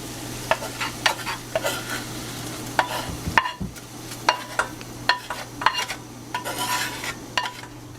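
Fish sizzles in a frying pan during a pasta cook, with a steady crackling fry under sharp scraping stirs and clinks of a utensil against the pan.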